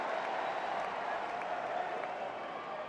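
A packed crowd at Arthur Ashe Stadium during a US Open tennis match roars and applauds in a steady, dense wall of noise. Indistinct voices are mixed into the sustained cheering.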